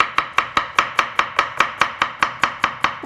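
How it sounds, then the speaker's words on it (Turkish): A kitchen knife chopping carrots on a cutting board, with about fifteen sharp, evenly spaced knocks in a brisk steady rhythm, close and loud with no talking. "Şimdi havucu ayarladıktan sonra şu şekilde bir ortadan ikiye bölün."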